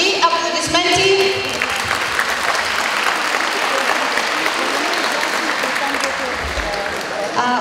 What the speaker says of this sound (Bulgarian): И аплодисменти.